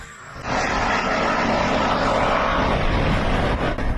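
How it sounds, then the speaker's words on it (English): A subsonic cruise missile flies over Ukraine, a loud, steady jet-like roar that swells in after a quieter start and holds until the end, with no voices. "It's a subsonic cruise missile, not a drone."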